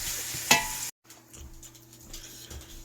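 Bacon frying and being stirred in a pan for a razor clam catch-and-cook meal, with a sharp scrape early on, then a steady low sizzle after a brief gap.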